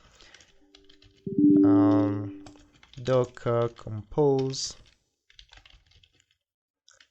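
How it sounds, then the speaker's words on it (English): Computer keyboard keys click in short light bursts while a docker compose command is entered, heard faintly before and after someone speaks. "So I will do that by typing docker"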